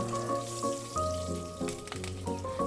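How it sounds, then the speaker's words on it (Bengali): Whole dried red chillies, nigella seeds and slit green chillies crackle briefly in hot oil while being stirred, a short close sizzle with light scraping and no talk, for a mustard fish curry. "ওই তেলেই ফোড়ন দিচ্ছি 2টি গোটা শুকনো লঙ্কা, 1/2 টিস্পুন কালো জিরে, চেরা কাঁচা লঙ্কা"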